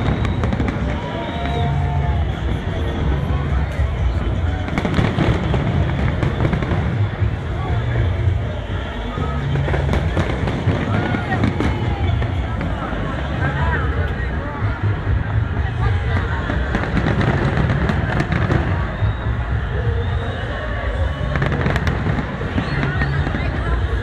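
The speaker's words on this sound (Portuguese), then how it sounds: "eram os fogos saindo na areia" New Year 2010 fireworks launched from the sand on Copacabana beach fill the air with dense, continuous booms and crackling bursts, while a large crowd's babble and cheers run underneath throughout.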